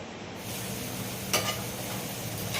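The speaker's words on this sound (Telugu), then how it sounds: "స్టవ్ కొంచెం సిమ్లో పెట్టానండి. ఫ్రై అయ్యే టైం అన్నమాట." Prawns frying in oil in a pan on a stove turned down to a low flame, a steady soft sizzle with one brief louder crackle partway through and no talk.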